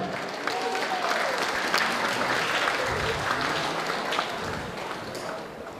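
Audience applause at a charity gala dinner, dense clapping with scattered voices and crowd murmur mixed in, holding steady for several seconds in a large room.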